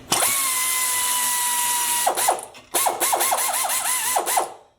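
Cordless Milwaukee Fuel ratchet straining against a stuck bolt: a long high whine, a short pause, then a burst of rapid clicking ratchet pulses, close and loud.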